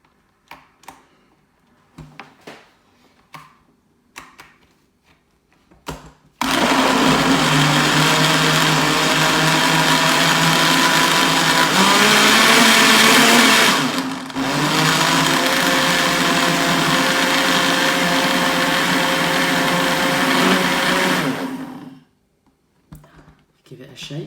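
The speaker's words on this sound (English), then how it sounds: "this blender is going to make a lot of noise" A blender roars steadily for about fifteen seconds, blending fruit into milk, after some light clicks and handling noises, briefly dipping midway before running on and cutting off.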